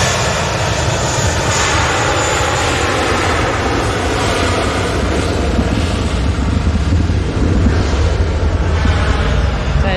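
A Helvetic airliner landing at Manchester Airport gives a steady, loud roar of engine noise with broad rushing hiss, holding constant throughout without pauses.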